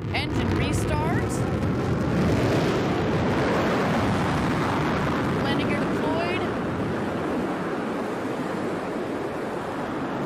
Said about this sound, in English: Engine restart.